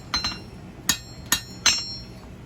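Blacksmith's hammer tapping hot steel on an anvil while fullering a groove for a fireplace poker, five short ringing metallic taps in two quick clusters, close and alone.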